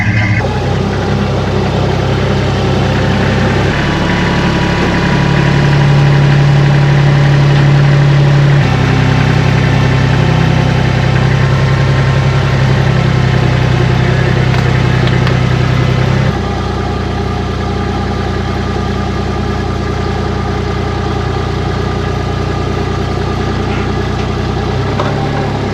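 1977 Pontiac Trans Am 455 V8 idling, a heavy, steady low rumble with slight shifts in pitch and loudness, close and alone with no talk.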